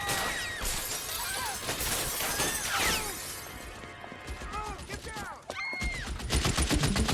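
Shootout in the L.A. Noire video game, with dense, continuous gunfire, rapid cracking shots and shattering, ricocheting impacts layered throughout, loud and close, with a short lull before the firing picks up again.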